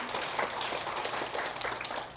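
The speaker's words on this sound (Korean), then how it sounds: "오늘도 찬양 가운데 함께 하시는 우리 하나님께 영광의 박수를 올려드리도록 하겠습니다." A church congregation claps together in faint, steady applause for a couple of seconds, a soft, even patter with no voices over it.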